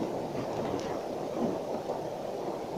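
Steady heavy rain with rumbling thunder, a dense continuous wash of noise from outside a ship's accommodation area, loud and unbroken with no voices.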